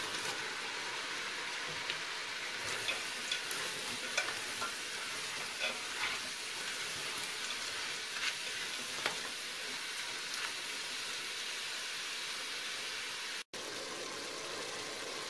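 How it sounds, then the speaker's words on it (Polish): Beef and onion frying in a pot for Hungarian goulash soup, a constant dense crackling sizzle with scattered pops, close and even throughout, with no talk. "Wołowinę obsmażam do cięcia. Do ściętej wołowiny dodaję cebulę."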